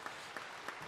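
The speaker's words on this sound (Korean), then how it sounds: "박수 좀 하실까요?" A church congregation claps together in steady, dense applause, with rhythmic peaks in a short burst that fills the hall.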